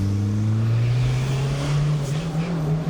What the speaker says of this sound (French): Vas-y, si tu veux faire une petite accélération tranquille.